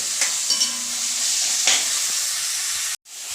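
Green chilli, coriander leaves, curry leaves and garlic sauté in a pan for a beef curry, giving a steady close sizzle with a few scraping stirs, then a sudden cut near the end.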